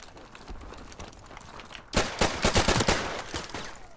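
Rapid automatic fire from an AK-74U in the Modern Warfare Remastered video game, a short quiet lead-in giving way to a loud burst of closely spaced shots that rattle on for about two seconds.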